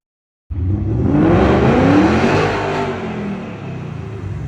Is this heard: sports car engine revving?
yes